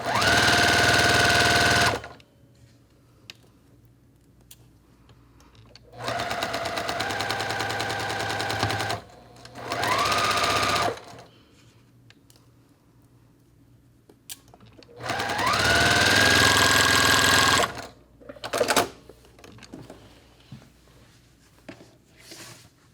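A sewing machine stitches fabric in several bursts of fast, steady mechanical whirring and clatter, close and loud, with pauses of near silence between runs and some brief shorter stitching near the end.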